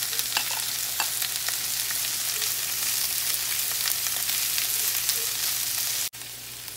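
Sliced vegetables with yellow, orange and red bell peppers sauté in a pan, a steady loud sizzle with occasional stirring clicks, cutting off abruptly near the end.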